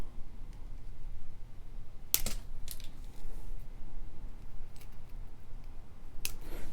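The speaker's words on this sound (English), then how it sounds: "then we'll trim" Beading wire on a necklace is trimmed with cutters, giving a few sharp isolated snips, one near the start of the second third and one near the end, against quiet background.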